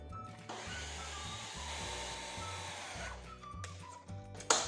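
A food processor whirring cooked shrimp seasoned with lemon and garlic into a paste, a continuous motor drone with a brief dip partway through, then stopping near the end with a clatter.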